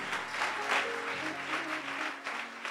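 A church congregation at a Christian convention applauds and cheers in a steady, dense wash of clapping that runs unbroken over music playing underneath.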